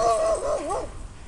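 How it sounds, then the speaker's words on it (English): A neighbourhood dog vocalises in an outdoor backyard, giving one drawn-out, wavering whine-like bark that rises and falls in pitch, fairly close and loud over background noise, then fades out. "Random neighborhood dog."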